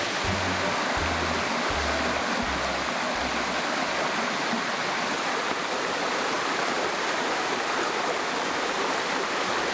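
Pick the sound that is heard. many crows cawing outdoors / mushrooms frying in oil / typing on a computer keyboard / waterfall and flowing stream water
waterfall and flowing stream water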